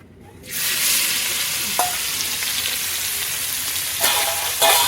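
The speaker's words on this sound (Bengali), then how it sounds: "চিংড়ি মাছটা ভালো করে ভেজে নেব" Steady, loud frying hiss of salt-and-turmeric-coated prawns sizzling in a hot wok, with a few brief clinks of a utensil against the metal near the end.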